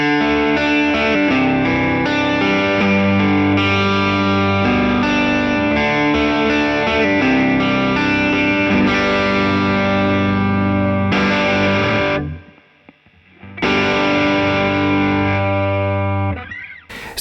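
A 1970 Gibson ES-330 electric guitar played through an amp, loud and close with ringing chords and single notes. A brief gap near the end is followed by more strumming.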